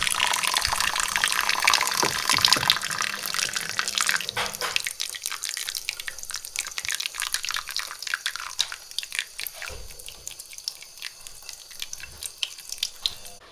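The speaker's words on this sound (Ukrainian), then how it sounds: "ікру я злив і акуратно холодною водою ще її трошки промиємо" Cold tap water runs over pike roe as it is rinsed, a steady splashing stream that thins to trickling and dripping, close up and alone without speech.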